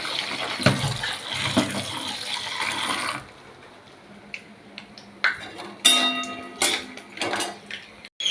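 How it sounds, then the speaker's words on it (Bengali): Potatoes and pointed gourd are washed in water in a home kitchen: steady splashing and running water for a few seconds, then scattered clinks and knocks of vegetables and utensils. "এদিকে আলু পটল ধুয়ে নিই।"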